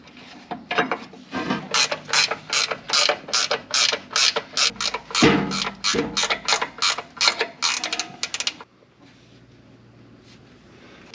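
Ratchet wrench tightening a bolt to fasten a plate onto a 4-speed swap bracket on a field-find Firebird, a close, loud run of rapid clicking strokes in steady bursts for about eight seconds, then quiet, with no talk.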